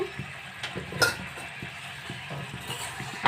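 Metal clinks and scrapes from a cooking pot holding mango chutney, with a lid clattering and a spoon tapping at irregular intervals over a soft simmering background.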